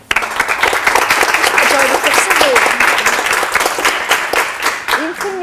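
Loud, dense applause from a crowd of schoolchildren at a quiz contest between two schools, steady clapping filling the whole stretch with a slight fade near the end.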